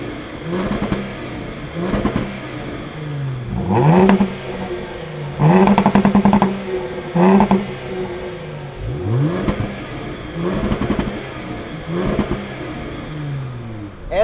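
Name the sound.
Jaguar F-Pace S and Range Rover Velar engine revving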